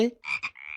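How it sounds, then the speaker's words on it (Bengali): Frog croaks, a few short raspy calls in quick succession, close and fairly loud, with no speech. "ব্যাং"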